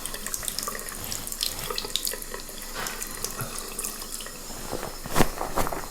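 Water pours steadily over a waterproof Imax winter fishing suit, a close hissing, splashing stream with scattered drips and spatters that keeps going throughout, with no talking.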